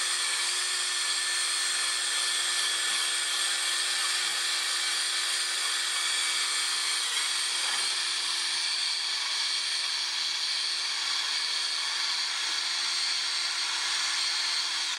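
Sanding a clouded plastic surface with 150 grit sandpaper on a power tool, a steady high-pitched whine with a constant drone beneath, running evenly and close throughout with no talk.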